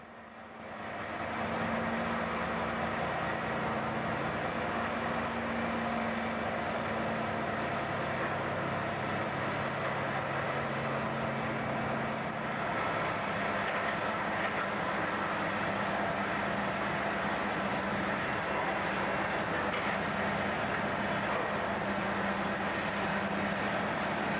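A loaded coal train rolls slowly out of an unloading plant while still discharging coal near Scunthorpe, a steady, continuous rumble and grinding drone with sustained tonal whine, unbroken for over twenty seconds at a constant level.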